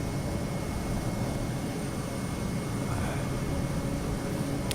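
Simulated aircraft engine in Microsoft Flight Simulator while the throttle is eased back, a steady broadband drone and rushing hum that stays loud and even, with no talking over it.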